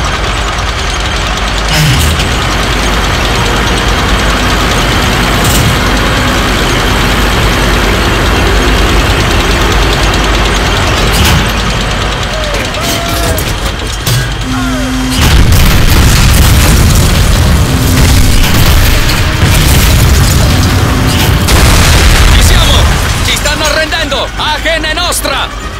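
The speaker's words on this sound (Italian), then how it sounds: "due Panzer! Ed ecco che arriva il cannone grosso." German Panzer tank cannon in the video game Call of Duty Finest Hour: loud booming blasts amid rumbling engines and battle noise, with voices talking throughout.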